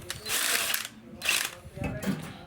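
A tool tightening a front suspension bolt on a Suzuki Viva R motorcycle, heard as three short mechanical whirring, clicking bursts close by.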